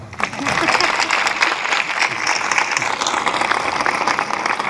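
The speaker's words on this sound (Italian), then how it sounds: "Scusate l'applauso, non lo fate." A congregation applauds inside a church during an anniversary celebration, steady dense clapping filling the space evenly throughout, fairly loud with no pause.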